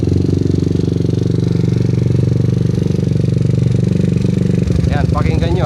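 Yamaha Aerox V2 scooter engine idling with a deep, steady rumble close by; near the end the low pulse shifts and a person briefly talks over it.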